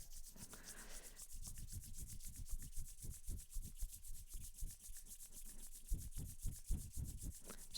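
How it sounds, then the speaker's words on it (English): Two palms rub together vigorously in front of the chest, making a steady, close, rhythmic swishing friction, stroke after stroke, with no talk. "Rub your hands in front of your heart."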